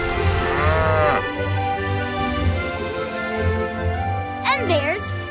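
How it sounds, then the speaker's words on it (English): Cartoon cows graze in the Swiss Alps, with low mooing mixed under animated character voices and light background music. "The cows are really enjoying their meal."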